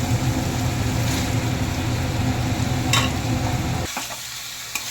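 Raw jackfruit pieces sizzle and crackle loudly as they are stirred into hot spiced oil for a vegetarian jackfruit kalia, a steady close frying hiss with a few scraping knocks that abruptly quietens near the end.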